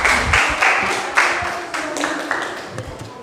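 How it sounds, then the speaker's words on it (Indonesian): Audience applause in a classroom session, irregular clapping bursts that rise and fade over a few seconds, moderately close and fairly loud, with no talking over it. "Berikan aplaus untuk kita semua."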